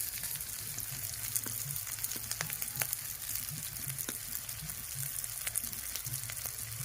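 Ground spices with turmeric, salt, Kashmiri chili powder and sugar fry in oil in a pan, giving a steady, close, even sizzle with faint crackles throughout and no talking.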